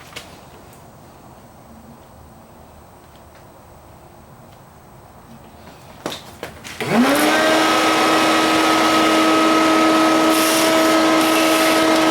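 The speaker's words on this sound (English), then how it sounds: "I'm going to go ahead and vacuum some of this out because it's pretty dirty in here." A vacuum cleaner starts up after a few knocks and then runs loudly and steadily with a whining motor hum.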